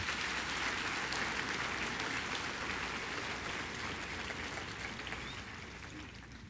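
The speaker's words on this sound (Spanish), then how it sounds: "Dale un aplauso al Señor." A church congregation applauds together, a dense steady wash of clapping that fills the whole stretch and gradually thins toward the end.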